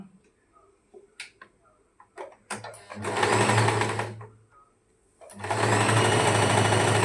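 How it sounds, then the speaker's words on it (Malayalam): A sewing machine double-stitches an underskirt in two loud, close, continuous bursts of rapid mechanical whirring. Scattered clicks and handling taps come before and between the bursts, and a voice talks quietly. "ഡബിൾ സ്റ്റിച്ച് ഇട്ട് അടിക്കണം കേട്ടോ."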